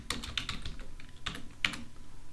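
Rapid keystrokes on a computer keyboard as a file name is typed, several close clicks in quick bursts with short pauses, recorded up close with no voices.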